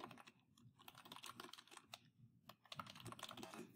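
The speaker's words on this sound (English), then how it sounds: "I can just hit the tab key to indent my paragraph" Rapid typing on a computer keyboard while a paper is formatted in MLA style, with close, crisp keystrokes in irregular bursts and short pauses, no voices.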